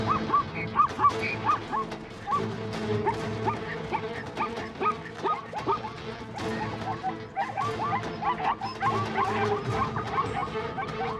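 African wild dogs call in the Okavango wild with a steady run of yips, whimpers and short bark-like cries, several animals close together.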